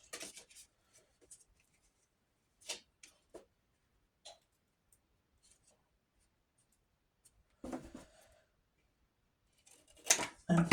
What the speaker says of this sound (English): So I'm just going to cut this into a tag shape.